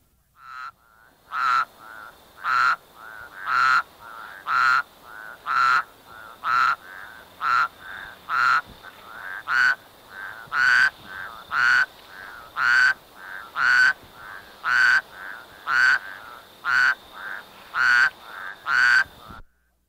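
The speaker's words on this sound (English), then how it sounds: "the Great Basin spadefoot, often breeds in more or less permanent pools. It is heard here calling from a ditch in the state of Washington." A Great Basin spadefoot toad calls from a ditch in Washington, giving a steady series of about twenty short, nasal, snoring croaks spaced evenly about a second apart, loud and close with no other sounds.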